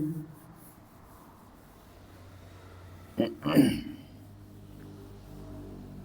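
Writing out a trigonometry problem for a class 10 math lesson, heard as a brief scratchy stroking burst in the middle of an otherwise quiet stretch.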